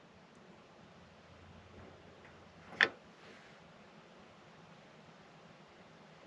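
A single sharp click from the gas burner igniter of a fridge in a Talbot Express campervan, standing out alone against a faint steady hiss.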